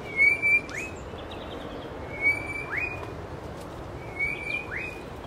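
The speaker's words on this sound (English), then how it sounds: "The birds sound lovely though," Birds sing along an overgrown coastal path in KwaZulu-Natal: three clear whistled phrases, each a short high note followed by a rising sweep, repeated at regular intervals over a soft steady background hiss.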